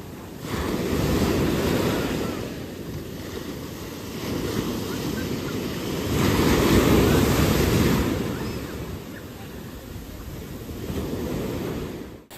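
Ocean waves rolling onto the beach at Puerto Escondido, Oaxaca, a continuous roar of surf swelling and receding in slow surges, with wind buffeting the microphone and no talk.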